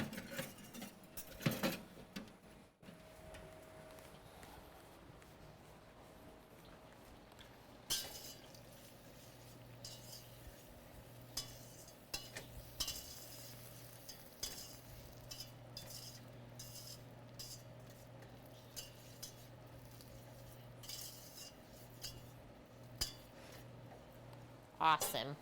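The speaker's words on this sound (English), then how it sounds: "I'm gonna grab a whisk because our butter is melting with the sugar already in the pot" A whisk clinks and scrapes softly against a pot of melting butter and sugar, light irregular taps and stirring over a quiet background with faint talk at times.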